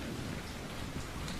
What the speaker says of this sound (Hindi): लगता है भगवान कुछ ज्यादा ही प्रसन्न हो गए जो इतनी ज्यादा बारिश कर रहे हैं और साथ में कड़कती बिजली मुफ्त में बरसा रहे हैं